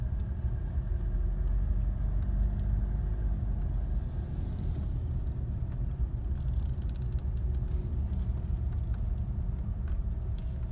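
Heavy sand trucks rumble at a sand mine, a continuous low engine drone and idling growl with rough road noise, steady and fairly close, no voices.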